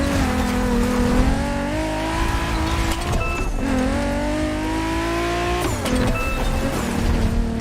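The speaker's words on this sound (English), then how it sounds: "We have prepared a classic for you from a very famous German brand, the BMW Z4 M40i" A BMW Z4 M40i roadster in The Crew Motorfest revs hard, its engine pitch climbing through the gears and dropping sharply at shifts, loud and continuous without talk.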